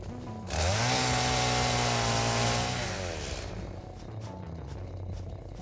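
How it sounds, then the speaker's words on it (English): A video game chainsaw in Satisfactory roars loud and close, its engine pitch climbing as it revs and then settling into a rough, buzzing idle, with no voices. "I don't know why they made the chainsaw so loud."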